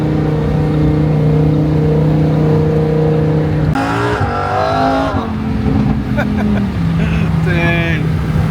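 A Lamborghini Huracan Evo with a titanium exhaust drones steadily from inside the cabin, then revs sharply in several rising and falling bursts before easing back. Loud and close throughout.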